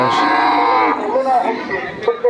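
A cow lets out a long, loud, close moo, followed by fainter lowing and background chatter of a busy crowd at a village cattle market.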